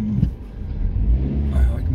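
Car engine rumbling and revving as the vehicle pulls away to drive, with a steady low drone that swells in short surges throughout.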